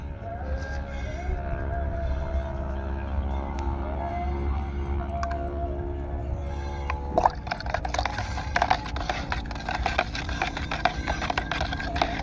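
Amistartop fungicide being poured into a spray mixture for rice paddy: a low steady hum at first, then close, trickling splashes and gurgles of liquid filling a container, with no one speaking.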